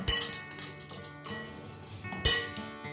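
Semolina and salt stirred together in a bowl for idli batter: a spoon knocks and scrapes against the bowl, with two sharp clinks at the start and near the end and softer scraping between.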